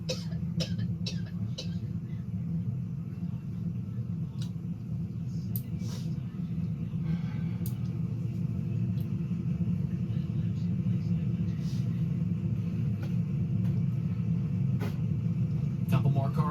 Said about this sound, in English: Couple more cars getting into their proper starting position before we do the parade lap here.